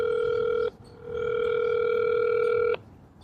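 Ringback tone on a phone call to a crisis line: a short steady electronic tone, a brief gap, then a longer loud burst of the same tone, with no voices.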